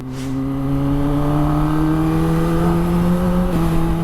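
A Kawasaki Ninja ZX-25R motorcycle engine runs steadily while riding down a narrow lane, a loud sustained drone with rising harmonic pitch under light acceleration and a brief dip near the end.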